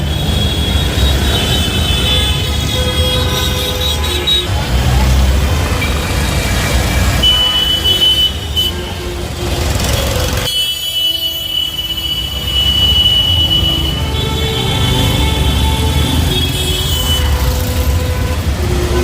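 Heavy traffic at the Rajkot bus stand during a festival rush, with GSRTC buses rumbling loudly nearby, engine drones rising and falling, brake squeals, and a brief quieter dip midway before the roar resumes.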